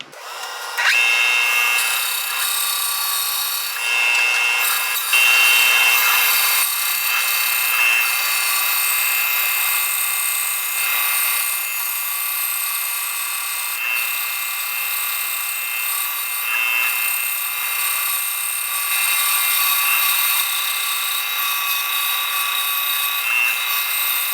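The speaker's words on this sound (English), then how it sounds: "first thing I'm going to do is make some relief cuts at about every 90 degrees so that we don't put quite so much stress on the blade" A power saw blade cuts relief slits into wood, running as a steady, loud high-pitched whine that holds almost unbroken for about twenty-four seconds, with no one speaking.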